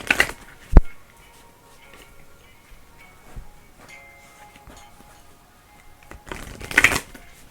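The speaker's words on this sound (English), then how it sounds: "Let's pull from the Work Your Light deck for this card." An oracle card deck is shuffled in a quiet room, with a brief riffle at the start, soft faint handling in between, and a second burst of shuffling near the end.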